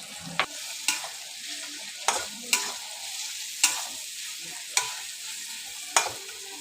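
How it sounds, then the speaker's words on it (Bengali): Onions sizzle steadily in a hot pan while a utensil scrapes and clacks against it about every second, with no talking. "পেঁয়াজটা ভাজা হচ্ছে।"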